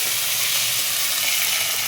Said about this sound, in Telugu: ఆవాలు జీలకర్ర చిటపట ఆడుతున్నప్పుడు